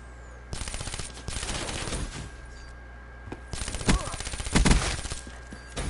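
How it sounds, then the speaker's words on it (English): Rapid bursts of shotgun fire from an online shooter game, loud and dense in two clusters with sharp blasts near the end, over a steady background hum. "why are they trying to snipe you with a shotgun?"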